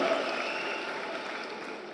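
Applause from guests at a Rwandan wedding, a brief steady patter of many hands clapping at moderate distance, gradually fading.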